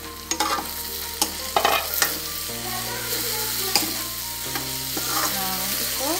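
Aloo gobi matar curry of potato, cauliflower and peas cooking in a pan, with a steady low sizzle and occasional scraping, clattering stirs, close and alone with no talk.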